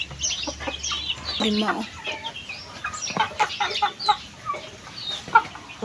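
Pet chickens cluck and chatter close by while being fed, a busy mix of short clucks and higher peeps, including a hen with newly hatched chicks, with a brief spoken word among them.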